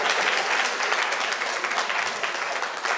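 A crowd at a World Habitat Day 2019 ceremony in Benin breaks into dense, sustained applause, loud and continuous with no break.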